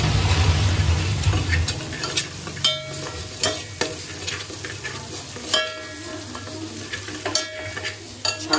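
Chicken biryani ingredients sauté in a pan, a continuous oily sizzle broken by repeated scraping and clinking stirs of a utensil against the metal, close up with no talking.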